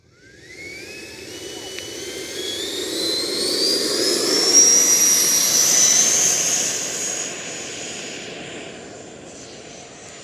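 An FMS 80mm F-86 Sabre RC jet on its maiden flight takes off, its electric ducted-fan whine rising to a loud, steady roar that peaks midway and then slowly fades as the model climbs away.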